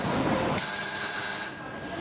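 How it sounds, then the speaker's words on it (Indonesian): A quiz competition buzzer bell sounds once for about a second, a bright sustained electronic ring with steady tones that starts abruptly and then cuts off, heard alone with no talk. "kita akan mulai dulu untuk mengecek bel"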